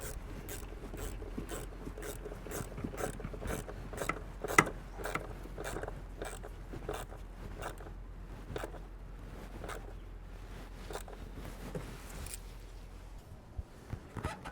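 A hose clamp is tightened on a 2002 Chevrolet Astro during a thermostat replacement, a steady run of rapid ratcheting clicks repeating for several seconds against a low background hum, close and moderately loud.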